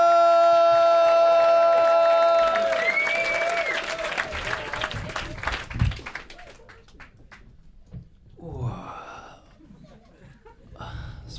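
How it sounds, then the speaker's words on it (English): At a stand-up comedy club, an audience applauds to welcome a comedian; a sustained clap, mixed with a tonal music sting at first, dies away into scattered laughter and chuckles. "Let's keep that applause going nice and loud."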